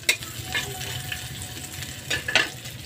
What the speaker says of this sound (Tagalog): igisa na to ang mga lamas. Bawang at saka sibuyas